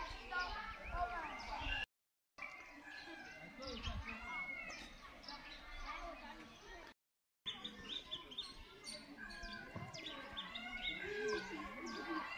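Small birds, including red golden pheasant–area aviary birds, chirp and tweet in repeated short calls throughout, mixed with frequent talking nearby.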